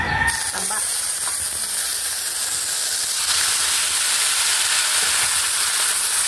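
Pork fat sizzles and spits in hot oil in a wok, a loud steady hiss of frying that holds without a break throughout, close up and with no talk over it.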